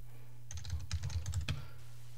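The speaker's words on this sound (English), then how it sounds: "Was I typing the right password?" A password is typed on a computer keyboard in a quiet room: a quick burst of about a dozen light, close key clicks, faint and alone over a low steady hum.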